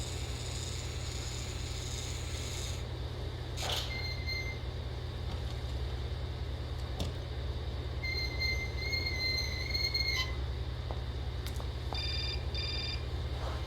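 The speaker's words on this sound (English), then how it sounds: "And of course the phone rings." A telephone rings in the adventure video game Syberia, short bright electronic rings repeating in bursts over a low, steady rumbling background, moderately quiet and with no talk.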